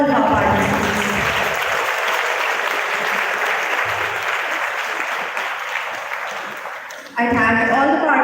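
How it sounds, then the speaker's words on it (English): Applause from the audience at a school debate competition honours the participants, a dense sustained clapping for several seconds, with talk briefly audible at the start and returning at the end. "I now request the audience to give a great round of applause for all of our participants"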